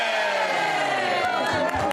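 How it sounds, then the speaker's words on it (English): A crowd of people shouts a group cheer together in one loud, sustained burst that trails off into scattered voices. "You want to do the Toy Mountain cheer?"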